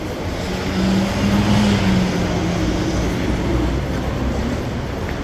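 Yurikamome train in Tokyo, a steady loud rolling rumble heard from on board with a brief tonal whine early on, and no talking.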